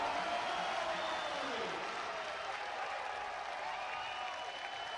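A basketball crowd at a Virginia State versus Young Harris game roars and applauds in a dense, steady wash of clapping and cheering that fills the arena for several seconds without letting up.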